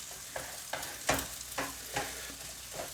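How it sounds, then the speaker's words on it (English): Two eggs scrambled in a hot pan for egg fried rice, a steady sizzle broken by about seven rhythmic scraping stirs close up, with no talk. "2 eggs in. Give them a scramble."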